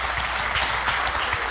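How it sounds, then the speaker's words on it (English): Audience applause at the NEAF 2023 astronomy expo, a dense, steady wash of clapping hands from a crowd filling the room. "Please give a big round of applause welcoming to NEAF 2023 from San Antonio, Texas, Robert Reeves."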